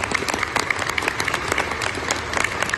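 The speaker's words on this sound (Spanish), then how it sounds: "y le enviamos un fuerte aplauso." A crowd applauds in a hall during a government report event in Huejotzingo, Puebla, steady dense clapping throughout, moderately loud with no voices over it.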